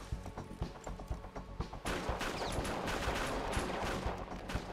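Rapid gunfire from GTA 5 Online during a heist shootout, a dense sustained fusillade of quick shots that runs steadily through the clip, with no talk over it.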